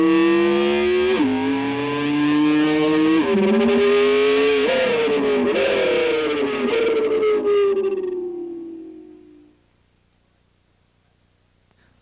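An electric guitar imitates a Ferrari downshifting after third gear, with distorted sliding tones stepping down in pitch through several shifts like an engine revving and dropping, then fading out to silence near the end.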